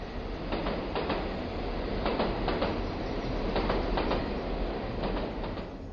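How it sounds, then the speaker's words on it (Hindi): A passenger train rolls along the rails, its wheels beating a steady clickety-clack rhythm over a continuous rumbling drone, heard from on board at moderate level. "हमारी ट्रेन चल पड़ी।"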